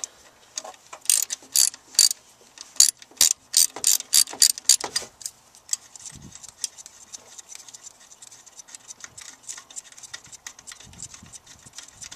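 A ratchet tightens bolts on a 2001 Toyota Camry, with rapid bursts of crisp clicking early on that thin out into scattered lighter clicks and a few soft knocks, close and with no talk.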